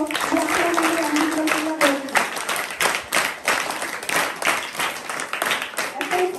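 An audience at a school function claps in a steady burst of applause, many hands rattling together, with a voice speaking over the start before the clapping takes over.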